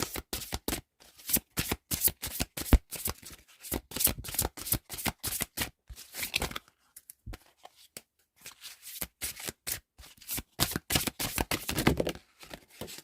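Oracle cards being shuffled by hand, rapid crisp riffling flutters in bursts with short pauses between, close and fairly quiet, no voice over it.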